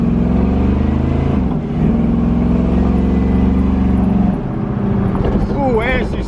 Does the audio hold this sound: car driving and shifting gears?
yes